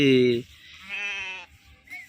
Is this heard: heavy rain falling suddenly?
no